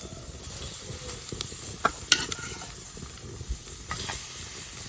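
Fish frying on an iron tawa without oil, a soft hiss and sizzle with a few sharp scraping and tapping strokes of a spatula, close and quiet, no talk.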